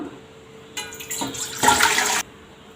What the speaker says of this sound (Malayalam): അതിലേക്ക് 1 ലിറ്റർ വെള്ളം ഒഴിച്ചു കൊടുക്കാം